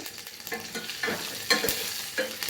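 Spice tempering fries in hot oil for a lentil curry, giving a steady close sizzle with crackling pops and a brief scrape of stirring, with no talk.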